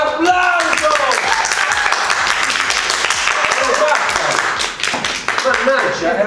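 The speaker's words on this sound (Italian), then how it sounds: "un applauso!" Applause for a young actress at an acting workshop, a steady dense patter of clapping from a small group carrying on throughout while voices talk over it.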